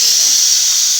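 Chopped okra (bhindi) hitting hot oil that already holds cumin and garlic, giving a loud, steady hiss of sizzling that fills the whole moment, with a voice faintly underneath.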